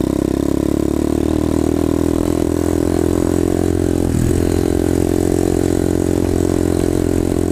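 Engine of a new dirt bike during break-in, revved to half throttle, a steady loud mid-pitched drone with a brief dip and swell midway, no voices over it.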